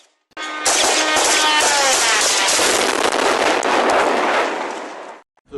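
Burst of rapid gunfire from police shooting down a drone during an attack on a capital city, loud and close, a dense rattling volley lasting several seconds before stopping abruptly.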